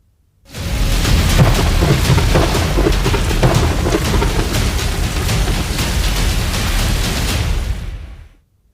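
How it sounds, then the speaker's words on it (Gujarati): Heavy monsoon rain in Junagadh roars steadily with a dense hiss, and deep thunder rumbles beneath it, loud and continuous throughout. "શહેરભરમાં ભારે વરસાદ ખાબકી રહ્યો છે"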